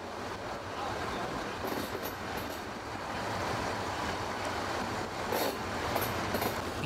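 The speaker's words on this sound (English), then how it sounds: "We began our return journey in the single car unit, from the port and then up through Porto Empedocle." A single-car diesel train unit running on a Sicilian railway near Porto Empedocle, giving a steady rolling rumble with occasional high wheel squeals, moderately loud and without talk.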